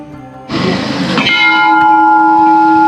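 Temple bells offered by pilgrims ring out, a sharp clang followed by several overlapping strikes that leave a long, bright metallic ring slowly decaying.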